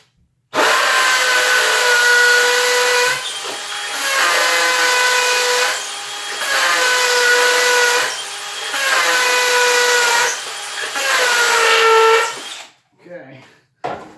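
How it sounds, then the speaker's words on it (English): Loud power drill driving screws into wood through a Kreg pocket hole jig, whining in four long bursts separated by short pauses, then stopping as the work ends. "And this drill is so powerful that the end of the chuck right here is actually countersinking my hole in the wood right here."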